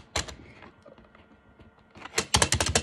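Clicky keyboard keys clatter close by: a few taps, a quieter stretch of handling, then a quick burst of rapid, rattling key presses.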